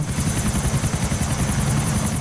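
Helicopter rotor blades in the video game GTA, a steady loud rhythmic whirring thump with a high buzzing whine, continuous throughout with no talking.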